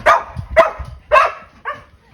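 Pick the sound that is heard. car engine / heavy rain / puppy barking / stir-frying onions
puppy barking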